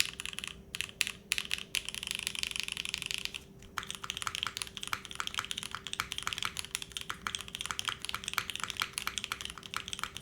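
Rapid, steady typing on a Lofree Edge mechanical keyboard fitted with new switches, a dense run of close, crisp key clacks with no voices, over a faint constant hum.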